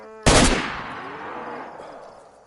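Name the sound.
AK-47 gunshot in a video game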